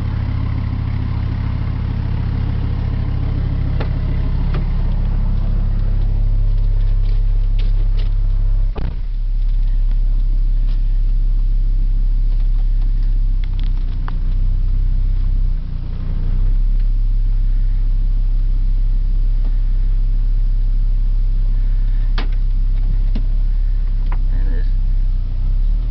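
A Ram truck running on wood gas without gasoline idles with a low steady engine rumble, loud and close, with occasional clicks and knocks over the drone.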